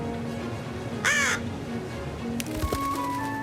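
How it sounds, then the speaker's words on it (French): A single crow gives a short, harsh caw, one clear call standing out over faint outdoor background noise, followed by a few quieter knocks and rustles. "Parmi les oiseaux qui peuplent les grandes plaines d'Amérique du Nord, il y a le corbeau."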